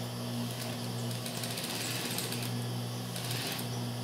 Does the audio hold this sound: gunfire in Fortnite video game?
no